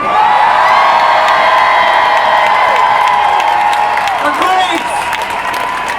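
A rally crowd at an anti-austerity demonstration in Britain shouts and cheers loudly in one sustained roar of many voices, with whoops and some clapping, slowly easing toward the end.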